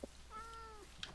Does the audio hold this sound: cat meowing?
yes